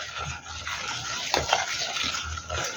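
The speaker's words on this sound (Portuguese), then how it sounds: "E vamos continuar mexendo devagar." A spoon stirs cookie dough with butter in a bowl, giving soft, slow scraping and sticky squelching strokes, close and fairly quiet, with a couple of brief sharper knocks against the bowl.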